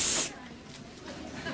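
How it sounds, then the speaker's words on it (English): A short hissing spray burst at the start, then fades into quieter background noise. "Just one more touch of spray."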